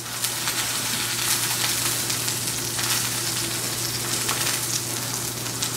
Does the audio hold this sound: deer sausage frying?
yes